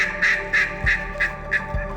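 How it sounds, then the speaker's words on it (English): A duck quacks repeatedly in a quick, even series of about six calls, close and clear, with a couple of low thumps between, during a duck hunt in flooded timber in Texas. "As soon as we started calling though, man, ducks showed up."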